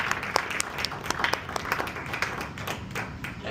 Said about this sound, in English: round of applause for James.